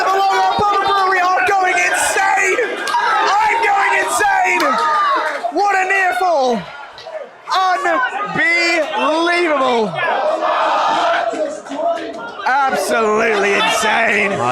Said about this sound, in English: The crowd here at the Long Arm Pub Brewery are going insane.